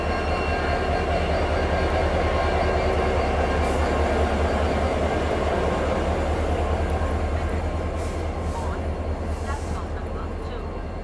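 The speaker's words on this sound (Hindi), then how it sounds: "पूरा डीजल का साउंड आपको पूरी जर्नी में बढ़िया से दिखाते हुए ले चलेंगे।" The diesel locomotive of the Marudhar Express throbs with a steady low engine drone and rhythmic rail clatter, loud and continuous, easing slightly toward the end while voices talk over it.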